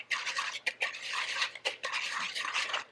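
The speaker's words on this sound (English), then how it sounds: "we're just gonna whisk this together" Whisk beating ingredients together in a bowl while cooking, a quick rhythmic scraping and clinking that repeats steadily and is heard close and fairly quiet, with no talk.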